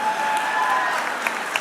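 Live audience applause during a Dallas show, a dense, even wash of clapping that holds steady for the whole short stretch.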